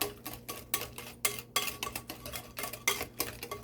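Walnuts are mixed into an apple cake batter with rapid, rhythmic clinks and scrapes of a utensil against the bowl, close up and with no talking.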